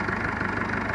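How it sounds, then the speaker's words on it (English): A 165 tractor's engine idles close by, a steady low rumble with a quick, even pulsing beat. "leaving the engine running here"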